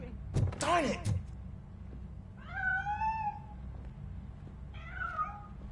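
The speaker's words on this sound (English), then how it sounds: "That cat must be hiding inside." A cat in the video game Robocop Rogue City meows twice, a long wavering cry and then a shorter one, clear and close after a burst of thumping and clattering at the start.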